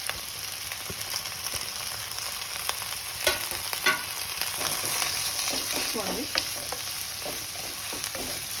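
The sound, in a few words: garam masala, onions, green chillies, curry leaves frying in hot oil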